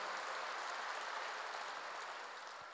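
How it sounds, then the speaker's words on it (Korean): A church congregation claps together in a large hall, a dense, even patter of many hands held at a constant, fairly quiet level and tapering slightly at the end. "박수로 하나 둘 셋"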